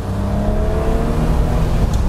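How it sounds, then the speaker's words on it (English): A 1988 BMW 3 Series E30 with an automatic gearbox kicks down and accelerates at full throttle, a steady close engine drone with rising tones and no talk. "when you floor it, it kicks down okay"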